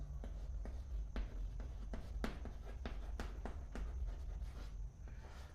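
Chalk or marker strokes sound close and distinct as restoring force is written on a board in a physics lecture, with regular tapping and scratching in a quiet room.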